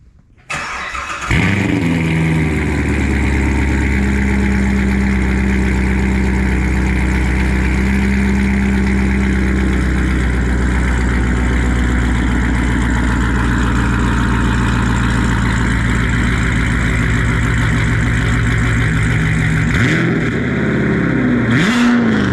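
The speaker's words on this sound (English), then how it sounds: "we're going to do a actual cold start now for you" A C7 Corvette Grand Sport fitted with 2-inch longtube headers and a catted X-pipe fires up from cold, a loud deep V8 rumble holding a steady high fast idle for the full clip before a brief blip near the end.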